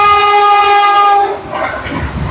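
A train on rails sounds a loud sustained multi-tone horn up close, which cuts off into the rumbling, rattling clatter of carriages moving along the track.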